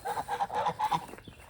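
Chickens clucking in a steady series of short, nasal calls, fairly close, with a quieter stretch at the end.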